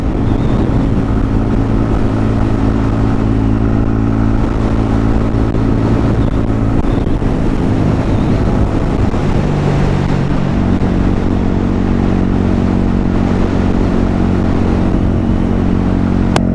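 Motorcycle riding on a mountain road near Saint-Jean-Pied-de-Port: a steady, loud engine drone with wind rush runs throughout, and its pitch shifts slightly as the bike changes speed.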